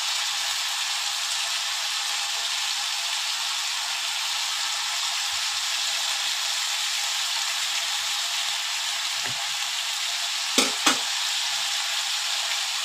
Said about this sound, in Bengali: এবার আমি উচ্ছে ভাজাটা বসালাম।